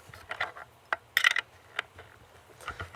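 Nylon locking nut being tightened onto a carriage bolt through wooden sawhorse pieces with washers, giving a few close, sharp ratcheting clicks and rattles separated by short pauses.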